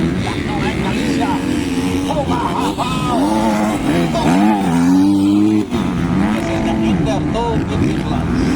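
50cc intermediate motocross bikes racing at Lantapan, Bukidnon, their engines whining and revving in continuous overlapping waves, loud and close, under steady talk from a commentator.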